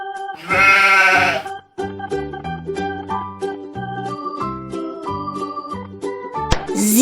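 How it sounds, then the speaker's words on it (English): Cartoon sheep bleating in a loud, wavering burst near the start, followed by a bouncy children's tune with chimes and a final rising flourish; no talking. "Sheep."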